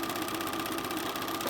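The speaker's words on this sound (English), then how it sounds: "So I am just going to continue sewing all the way down this." A sewing machine runs steadily, stitching a seam down a quilt panel fabric piece, with a continuous close mechanical whir and no pauses or talking.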